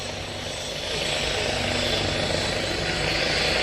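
Vintage aircraft with a Daimler-Benz engine making a display pass at an airshow, a steady broad engine roar that swells slightly after the first second and then holds loud and continuous.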